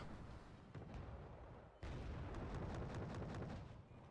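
Gunfire from a BTR-90 in the video game Wargame Red Dragon, a sustained rumbling barrage of repeated booming shots with a sharp louder burst partway through, dense and continuous against distant battle noise.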